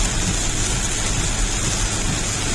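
A steady roar of heavy rain pounds down with near-zero visibility, mixed with a low rumbling drone as a car drives through the downpour.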